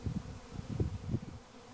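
A backyard swarm of honey bees drones as it searches for a place to land, a dense low buzzing that pulses and wavers close by, steady and unbroken, with no voices.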